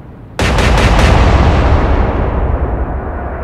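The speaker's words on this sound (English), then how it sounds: "We can only fire with our front guns." Front guns of a warship open fire in the naval game Atlantic Fleet: a sudden heavy salvo of several rapid booms, loud and close, dissolving into a long rumbling roar that slowly fades.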